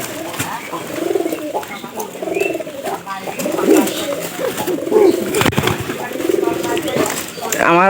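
Pigeons in poor health coo repeatedly at close range, their soft throaty calls overlapping in a rolling rhythm with occasional rustles and clicks around them.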